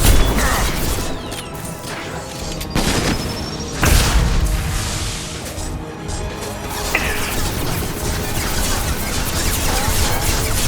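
Grenade blasts in Mass Effect 2 during sci-fi shooter combat: several heavy booms and crashes burst out of a dense, continuous wash of battle noise.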